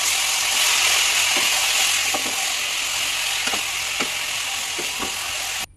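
Garlic and spices sizzle steadily in hot oil for a tempering while making pulao, a loud, continuous hiss with occasional soft clicks from stirring, cutting off abruptly at the end.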